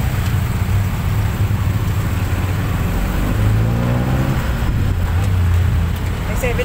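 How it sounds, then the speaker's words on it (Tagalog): Road traffic in Santo Tomas, Batangas rumbles steadily, with engines idling and revving nearby through continuous mid-distance roadway noise, while people talk over it. "Grabe ang traffic dito."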